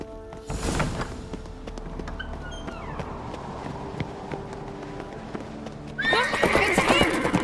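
A horse in The Witcher 3 video game whinnies loudly, then its hooves clip-clop along steadily, and a second burst of neighing and snorting closes the stretch.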